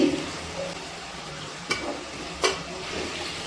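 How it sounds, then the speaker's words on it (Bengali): Chopped capsicum tipped into a hot kadai of dhaba-style chicken, giving a steady low sizzle with two brief sharp clatters and stirring scrapes near the end. "এবার আমি এর মধ্যে দিয়ে দিচ্ছি একটা কেটে রাখা ক্যাপসিকাম, দিয়ে দিচ্ছি।"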